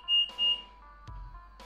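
Two short, high, whistle-like alarm beeps in the horror video game The Letter, thin and fairly quiet, followed by a low thump and a faint lingering tone.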